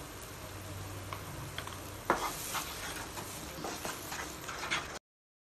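Tomato puree sizzling in a pan and stirred for kadai paneer masala, a close, continuous frying hiss with scraping spoon strokes that grow busier halfway through before the sound cuts off.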